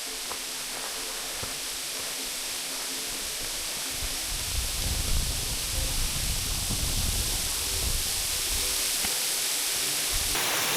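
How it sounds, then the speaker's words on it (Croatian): Waterfall on the Ugrić stream on Vlašić mountain, dropping about 20 metres, gives a steady, full rushing roar that holds even and unbroken throughout, close and alone with no voices. "Uistinu impresivan vodopad."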